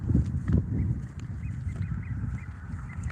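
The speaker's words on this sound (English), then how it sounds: "Yeah, here are the ducks." Mallard ducks on a park lake in Rowlett, Texas quack in short clustered bursts, loudest at the start and then softer, with faint bird calls behind on a quiet morning.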